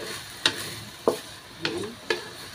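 Food marinated in soy sauce, calamansi, garlic and pepper frying in a home kitchen pan: a steady sizzle broken by four sharp spatula scrapes and stirs at regular intervals, fairly close.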